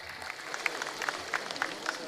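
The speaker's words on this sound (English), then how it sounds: "Please, a round of applause for our leader." An audience at an official event applauds a government leader, scattered claps rising and falling at moderate distance, fairly faint overall.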